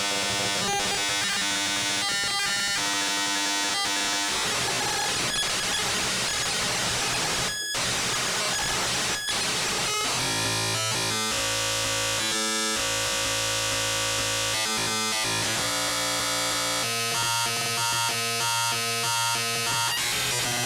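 A Moffenzeef Dialup modular synth module imitates a dial-up modem with dense, harsh electronic noise bursts, buzzing tones and rapidly shifting chirps that change character midway and persist loudly for the whole stretch.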